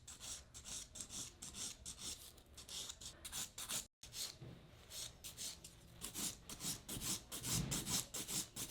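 A long acrylic nail is filed with rapid, even back-and-forth rasping strokes, close and quiet, with one very brief pause partway through and no talk.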